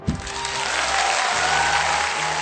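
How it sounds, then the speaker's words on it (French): Audience applause in a French quiz game show, a dense steady burst of clapping that starts abruptly and holds at full strength throughout. "on peut l'applaudir"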